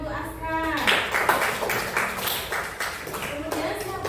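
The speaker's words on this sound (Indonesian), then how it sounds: "Beri tepuk tangan untuk Aska." A classroom of children clap together for a classmate, a short burst of brisk clapping mixed with an adult voice and children's chatter.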